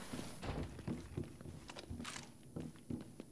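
Footsteps of a character in The Division 2, a series of soft, irregular thuds at moderate distance over a low game ambience, with a brief hiss partway through.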